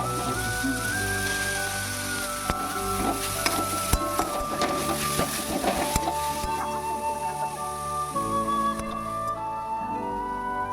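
Chopped vegetables with ginger and garlic frying lightly in a pan, a steady soft sizzle with scattered clicks and stirring scrapes throughout, no talking.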